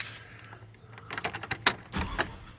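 Keys to a 2003 Chevrolet Tahoe jangle and clink in several short bursts, close to the microphone, with quiet gaps and a few soft knocks between the rattles.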